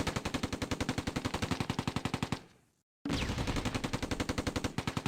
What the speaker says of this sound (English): Three misses. We're under heavy fire.